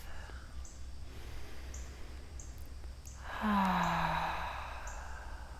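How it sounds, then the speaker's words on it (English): A person takes a slow, deep breath during a guided meditation, an audible airy inhale swelling midway through a quiet background and fading out, heard alone without talk. "Taking a nice deep breath."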